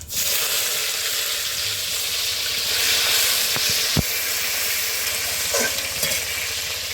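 Chopped tomato and tempering spices hit hot oil in a pan for a Bengali vegetarian dish, giving a loud, steady sizzle and hiss throughout, with a few soft stirring clinks near the middle.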